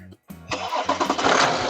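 A BMW 730 Ld engine starts: brief starter cranking with short pauses, then the engine catches and settles into a loud, steady running roar.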